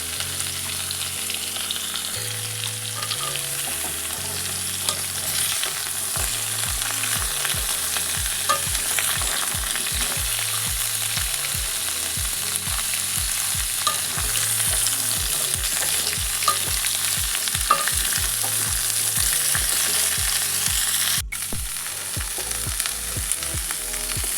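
Raw banana stems fry in a pan with a steady, close sizzle, while a utensil scrapes and stirs in repeated rhythmic strokes throughout.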